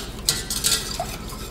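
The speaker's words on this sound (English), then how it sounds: "mix, or whisk I should say, everything in nicely, just so that honey can melt in with the rest of the ingredients" A whisk clinks against a bowl or pot in a few quick bright taps and swishes while honey is mixed into teriyaki sauce ingredients, close and fairly quiet, with no talking.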